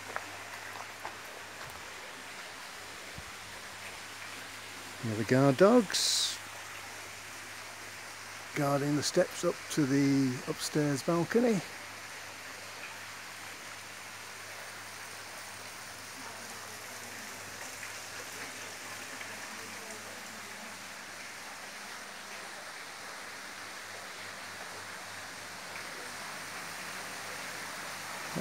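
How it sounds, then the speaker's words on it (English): A garden water feature runs steadily in the background, a soft continuous trickle and splash that persists throughout while someone talks briefly over it. "You can perhaps hear the water in the background."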